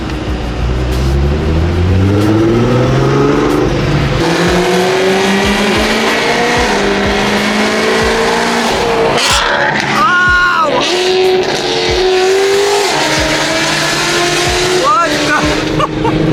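A car engine revs loudly and close by, its pitch climbing and dropping in repeated sweeps, with a brief squeal partway through.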